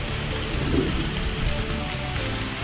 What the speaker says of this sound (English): The rain has not let up